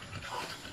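A pug pants rapidly and steadily at close range, a soft, breathy rhythm with no voices.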